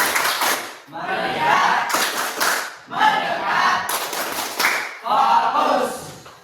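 Students in a class do the 'tepuk focus' clap routine, with repeated patterned bursts of group hand-clapping, close and loud, alternating with chanted voices in steady phrases.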